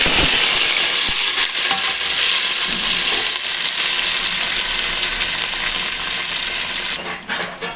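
Onions, green chilies and curry leaves frying in hot oil with mustard seeds, cumin and fenugreek in a pot for a murrel fish stew, a loud continuous crackling sizzle with stirring that eases off near the end.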